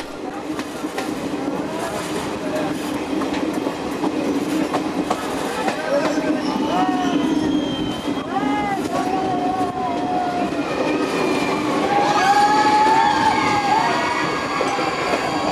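A train travels past the Dudhsagar waterfalls after Castle Rock and Caranzol stations, its steady rumble and clickety-clack carrying throughout with rising and falling squeals, while voices talk in the background.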